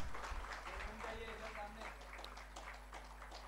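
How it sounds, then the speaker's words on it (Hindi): Applause breaks out at a farmers' convention as the MP C R Patil is welcomed and honoured, a faint crowd clapping heard beneath a steady electrical hum, with a voice over a loudspeaker. "तालियां बजती रहनी चाहिए"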